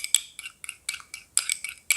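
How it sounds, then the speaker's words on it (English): A utensil clinks and scrapes against a small bowl while coconut oil serum ingredients are stirred, about eight sharp, bright taps in an uneven rhythm, close and fairly loud. "So mix the ingredients very well."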